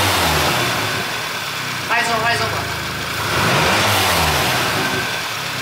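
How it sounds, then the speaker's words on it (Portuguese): A Volkswagen Jetta turbo engine revs up and settles back, loud and close, with people talking over and around it. "Dá uma aceleradinha, só pra galera ouvir o ronco."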